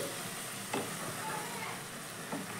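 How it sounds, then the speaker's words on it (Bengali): Mango and sugar being gently stirred in a pan on the stove, a soft continuous sizzle with a couple of brief scraping strokes. "ভালো করে আবারও একবার হালকাভাবে নাড়াচাড়া করে নিচ্ছি।"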